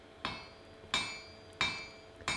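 A hammer forging a Viking shipwright's axe strikes the round stock four times at an even, unhurried pace. Each blow rings out sharply and close by, with a short metallic ring dying away after it. No one speaks.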